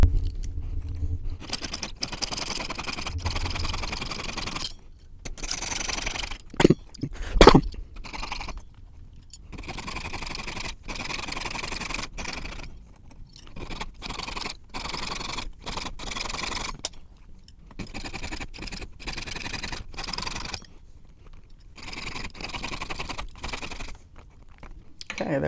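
A soldered cap being cut off a signet ring on a jeweler's bench, heard as steady close scraping and rasping sawing strokes with brief pauses and one sharp louder scrape midway.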